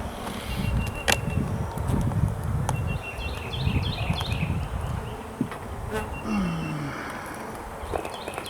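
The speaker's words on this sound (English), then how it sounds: "You can see there's a lot of bees in there." Honey bees swarm and buzz inside an opened hive box as the top box is lifted off, a steady dense drone close by with occasional scraping and handling noises.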